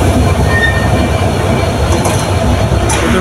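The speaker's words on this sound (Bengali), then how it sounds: "এটা হচ্ছে পঞ্চগড় ঢাকাগামী ট্রেন, আন্তনগর এক্সপ্রেস। এটা এখন চলে যাচ্ছে।" Panchagarh-to-Dhaka intercity express train moving off from the station, a close, loud continuous rumble of wagons rolling past with faint clickety-clack and wheel squeal.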